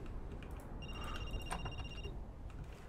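A telephone rings in the horror video game Linger, a short electronic trill repeating for about a second over a dense, rumbling background.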